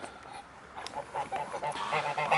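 Geese honk on a farm during a fall visit, a run of nasal calls that grows louder and more frequent toward the end, close by over faint outdoor background.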